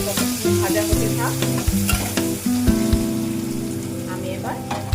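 Sliced onions sizzling in oil tempered with bay leaf and cumin, a continuous close crackle with rhythmic spatula scrapes and knocks against the pan as they are stirred.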